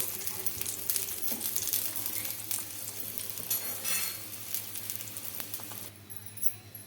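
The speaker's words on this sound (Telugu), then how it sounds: "కొద్దిగా అయితే ఫ్రై అయింది మనము అలానే వదిలేకూడదండి తిప్పుకుంటూ కాల్చుకోవాలి" Wheat flour dough fries and roasts in a pan, a steady close sizzle joined by scraping stirs as it is turned, with no talk over it.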